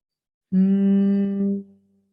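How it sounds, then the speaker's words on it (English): A person hums a single steady low tone during a pranayama breathing exercise, close and clear, lasting just over a second before fading out. "you will do a humming sound"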